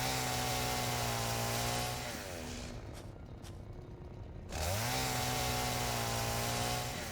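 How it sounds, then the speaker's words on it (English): A chainsaw in the video game Satisfactory cuts through foliage, its engine revving loud and steady, dipping briefly mid-cut before roaring back up. "Chainsaw it up in here."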